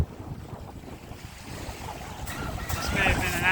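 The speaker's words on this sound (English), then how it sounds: "I'm not sure if you can hear me, it's extremely windy." Steady roaring wind buffets the microphone on the open Atlantic shore of Race Point Beach, Cape Cod, with surf rumbling low and gusts swelling louder toward the end.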